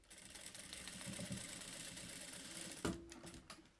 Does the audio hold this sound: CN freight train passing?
no